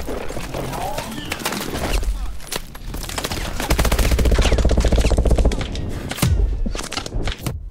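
Rapid automatic gunfire from the video game Call of Duty: Advanced Warfare, loud sustained bursts with thuds and shorter shots, building to a dense volley midway and then breaking into scattered shots.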